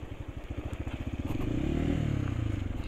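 A motorcycle engine chugs in low gear across a dry rocky riverbed, its pulsing thump slowing to a steadier drone as it climbs over the stones, close by.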